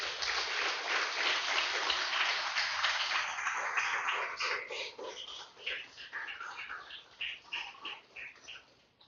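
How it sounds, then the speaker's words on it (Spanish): A church congregation claps at a fairly quiet level for about four seconds, then thins into scattered, uneven claps that trail off, with no voices over it. "Den un fuerte aplauso al Señor"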